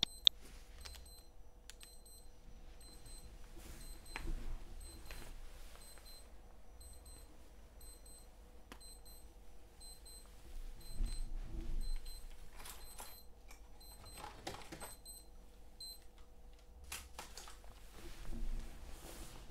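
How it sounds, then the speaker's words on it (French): A quiet alarm repeats short high beeping bursts at a steady rhythm, with faint rustles and knocks in between and no talking. "Excusez-moi, mon alarme fait un peu de bruit."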